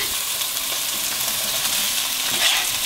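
Veal scallopini sizzles steadily in an oiled pan, a continuous bright hiss and crackle of frying without speech.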